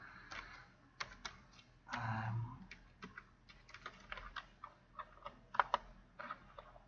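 A name being typed on a computer keyboard: quiet, close keystrokes tapping in an irregular rhythm, with short bursts and pauses and one louder press near the end.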